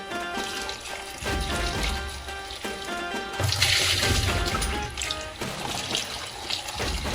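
Water splashes and runs while an eggplant stuffing mixture is rinsed in a kitchen, a continuous wet sloshing that swells louder midway and then settles back.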